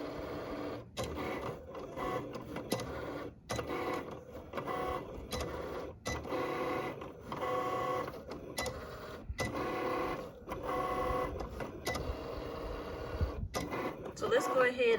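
A Cricut cutting machine whirs and clicks in steady stop-start bursts, its carriage motor pausing and resuming repeatedly, with a person talking over it nearby.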